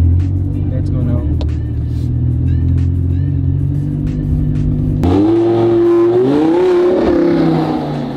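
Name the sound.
Lamborghini car driving off and revving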